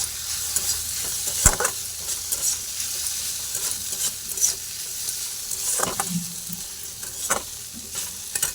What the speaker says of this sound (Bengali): চলো ডিমটা দিয়ে ভালো করে একটু নাড়াচাড়া করে নিই